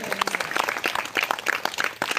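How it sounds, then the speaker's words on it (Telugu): Church congregation applauding together in a hall, a dense burst of clapping sustained for a couple of seconds, loud and close, with a brief pause before the clapping resumes. "మీ ఇద్దరికి పిల్లల్ని ఎంత బయలుదేరా చప్పట్లు పట్టండి."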